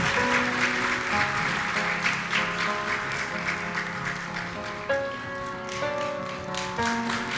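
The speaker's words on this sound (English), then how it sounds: "Alkışlarla, with applause please." An audience at an Ankara University honorary doctorate ceremony applauds steadily while music with held tones plays over the clapping.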